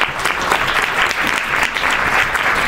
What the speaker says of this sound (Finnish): Annetaanko aplodit tässä kohtaan?